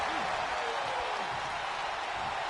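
Steady broadband crowd roar from a wrestling arena in WWE 2K25, continuous and fairly loud throughout, with faint commentary tones underneath.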